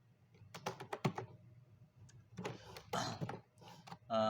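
Keys on a computer keyboard clatter in quick, irregular bursts while C code is written, with crisp close clicks and short pauses between runs of typing.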